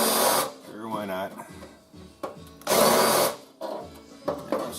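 Power drill on a Triumph TR3 drilling out spot welds, loud whining bursts cutting in and out several times, with a person talking in between.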